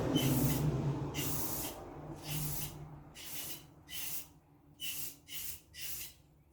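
Spray paint is applied in light coats to a headlight lens during a cheap headlight restoration, coming as a series of close, sharp aerosol hisses, several short bursts separated by brief pauses.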